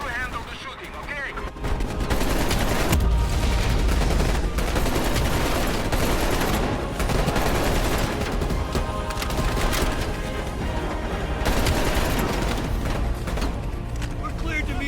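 Dense, sustained gunfire and explosions fill a helicopter combat scene in the 2020 video game Call of Duty Black Ops Cold War, loud and continuous with bursts throughout, while characters shout over it.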